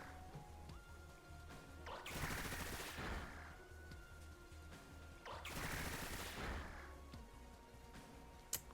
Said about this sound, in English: And we hit Bullet Seed onto Tatsugiri.